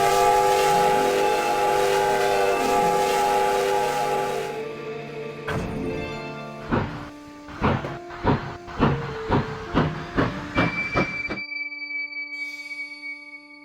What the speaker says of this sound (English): The ghostly engine sat there hissing steam, and with a blast of the whistle, the engine rolled away into the forest.